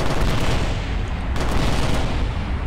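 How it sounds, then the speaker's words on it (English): A 30mm chain gun fires in Kerbal Space Program with the BD Armory mod as a loud, continuous fast burst of heavy shots that blur into a dense roaring rattle throughout. "30mm chain gun, not too bad."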